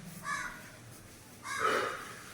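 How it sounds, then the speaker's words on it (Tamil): Crows cawing in two loud, harsh bursts, one near the start and a second, stronger one about a second later, with quiet air between and no talking. "காக்காலாம் விளையாடி கிடக்குதுங்க கத்திக்கின்னு ஜாலியா"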